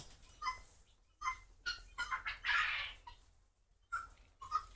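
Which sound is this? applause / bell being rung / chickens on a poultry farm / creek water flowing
chickens on a poultry farm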